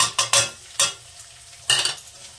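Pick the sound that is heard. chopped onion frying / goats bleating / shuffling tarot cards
chopped onion frying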